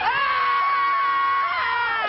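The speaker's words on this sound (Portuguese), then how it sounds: "Vamos dar um grito de carnaval?" A carnival crowd in Salvador lets out a sustained, loud collective shout, many high voices screaming together in one continuous wall of sound with no break.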